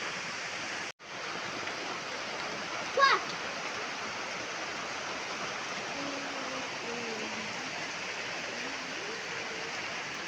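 Steady rain falling outdoors on a farm, a constant loud hiss throughout with a brief sharp click and faint voices or birdlike tones in the background.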